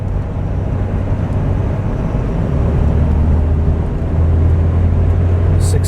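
A 2015 Ford F250 pickup with a 6.7L Powerstroke diesel on 35-inch tires cruising at 60 mph, heard from inside the cab as a loud, steady low drone of engine and road noise.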